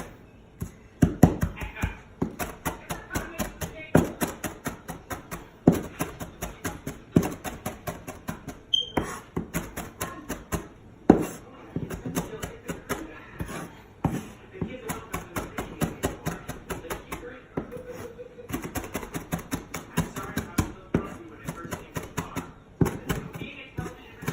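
Beef liver being chopped for laab with a sharp knife: steady, rapid taps of the blade on a cutting board go on throughout, with a person talking at times over the chopping.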